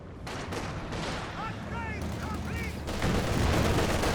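Anti-tank rockets and incendiary rounds fire during a 2v2 Company of Heroes 2 battle: dense, continuous gunfire and booming over a low rumble, with a commentator's voice running underneath.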